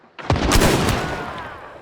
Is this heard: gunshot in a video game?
yes